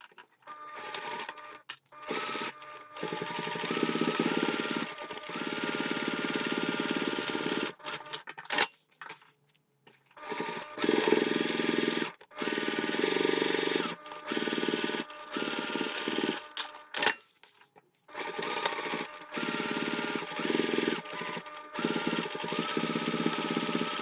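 A sewing machine stitches fabric side and bottom seams with a 1 cm seam allowance, running in steady mechanical bursts broken by short pauses, close and clear with no talk.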